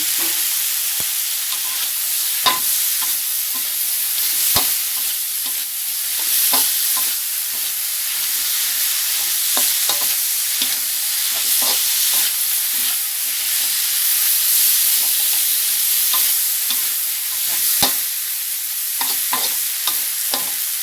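Shrimp stir-fried with dried chillies, holy basil leaves and flowers, and young coconut shoots: a continuous loud sizzle in a hot pan, broken by regular clanks and scrapes of a spatula, no voices.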